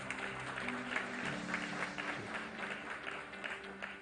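An audience at a business chamber event in India applauds to welcome the chief guest, a dense, continuous wash of clapping from many hands throughout, with voices faintly underneath.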